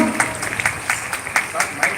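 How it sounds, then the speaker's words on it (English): Applause from a school audience of children at a council investiture ceremony, a steady patter of many hands clapping with a voice speaking over it. "a big round of applause, children"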